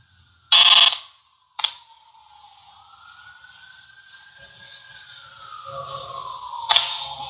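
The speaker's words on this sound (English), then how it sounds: "I think that's a plane that was flying over." A drawn-out tonal airplane engine drone slowly rising and falling in pitch, passing overhead at a distance, with a few sharp knocks and thuds nearby.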